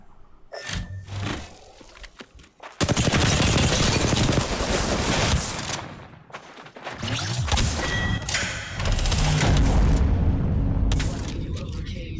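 Video game gunfire in a match, with bursts of loud, dense shooting and booming impacts that start abruptly, fade briefly, then return in heavy sustained volleys.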